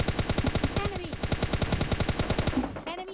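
Cover fire from an automatic weapon in a battle royale shooter game, a rapid steady burst of loud, evenly spaced shots running almost the whole time before cutting off, with a faint whistle-like tone over it.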